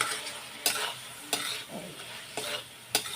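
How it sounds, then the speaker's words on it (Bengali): Bata fish curry with salt and cumin powder being stir-fried in a pan, steady sizzling punctuated by about five sharp spatula scrapes and knocks against the pan, close and clear with no talking. "এবার আমি কষিয়ে নেব।"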